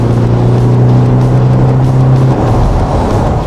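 Isuzu MU-X pulling hard under full throttle after a kickdown, its steady low engine drone strong and close for about two seconds before the tone drops away as the shift comes, all inside the cabin with no talking.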